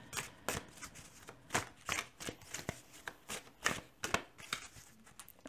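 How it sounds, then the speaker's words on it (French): Oracle cards being shuffled and drawn, a series of crisp riffling and slapping bursts in an irregular rhythm, close and fairly quiet, with no talking. "on va venir prendre une très belle carte de cet oracle"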